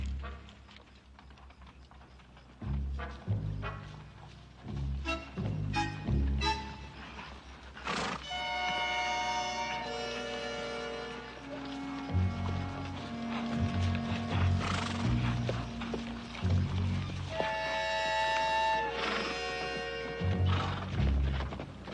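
Horses neighing and whinnying with hooves clip-clopping in a Western setting, starting with rhythmic hoofbeats and then long, loud whinnies layered with more hoof sounds.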